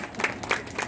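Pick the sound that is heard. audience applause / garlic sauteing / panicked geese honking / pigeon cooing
audience applause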